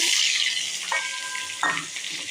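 Grapes and apple frying in oil tempered with five spices, a bright continuous sizzle up close, with a couple of sharper hisses as pieces are stirred; no one speaks.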